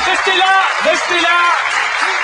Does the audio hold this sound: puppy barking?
no